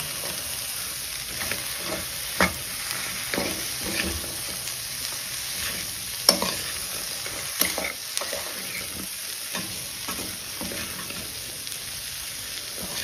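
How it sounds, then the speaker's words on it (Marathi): Mixed vegetables for a traditional Maharashtrian Bhogichi bhaji roasting in masala in a pan over a very low flame, a steady soft sizzle broken by scattered scraping clicks of stirring, close and alone with no talk. "आता हे सगळं मसाल्यात 1 मिनिट भाजून घेऊया सगळं भाज्या."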